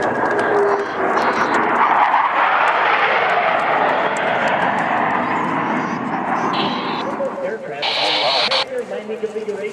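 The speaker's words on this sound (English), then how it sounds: "on a signal from Captain McWhorter, all four pilots will roll their aircraft 360 degrees simultaneously" Blue Angels jets perform a four-plane Diamond aileron roll overhead at an air show, a loud, continuous broadband roar that swells and holds throughout, with a commentator's amplified voice over it.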